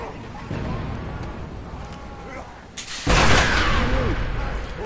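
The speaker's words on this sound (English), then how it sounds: "I got him with a good gunshot, but not a lethal one." A gunshot fires in the medieval combat video game Chivalry: Deadliest Warrior against a heavily armored knight, a sudden loud blast about three seconds in that leaves a rushing, noisy tail over the battle's clanking din.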